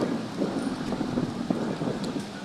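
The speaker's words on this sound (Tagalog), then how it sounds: "Mahangin dito sa BGC." Steady broadband wind in BGC rushing across the microphone, with low rumbling gusts and faint scattered background noise throughout.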